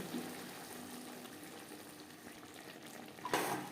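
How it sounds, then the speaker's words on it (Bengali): Bottle gourd cooked with fish head is stirred in a pan over a gas flame, a quiet low sizzle with soft scraping and shuffling of the mixture, ending in a brief louder scrape or clatter. "লাউর সাথে বেশ ভালো করে মিক্সড করে দেবো।"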